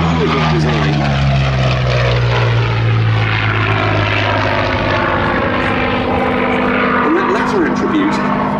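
A Curtiss P-40C Warhawk at the Duxford Battle of Britain Airshow, its engine a loud steady propeller drone with a slowly shifting pitch, heard under continuous commentary from a man.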